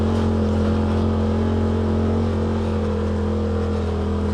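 Polaris RZR XP Turbo side-by-side running on E85 fuel, engine droning steadily and loud up close on a trail near Crystal Mountain, with a constant low hum and no talk.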